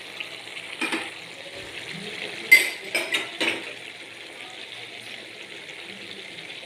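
A spoon or spatula stirs chilly chicken in a pan, making a few faint scrapes and clinks in a short cluster over a soft, steady background hiss.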